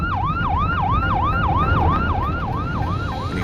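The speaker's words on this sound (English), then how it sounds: "When he heard the siren, the off-duty paramedic pulled over." A police siren wails, sweeping up and down rapidly and repeatedly, loud and close, over a low traffic rumble.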